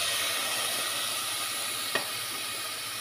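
Steady sizzling of pork in a preheated cooking pot, with a faint brief clink partway through.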